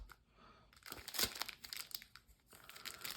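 A packet of KMC Standard Size card sleeves being opened, with bursts of close plastic crinkling and tearing that rise and fall, loud crackles near the middle, no talk.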